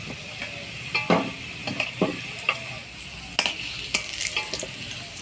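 Potatoes frying in a pan until reddened for chicken curry crackle with a steady sizzle, while repeated scrapes and taps of a spatula stir them, close by.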